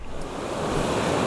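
River rapids in Labrador, heavy whitewater rushing in a continuous loud roar, close and unbroken, with no voices.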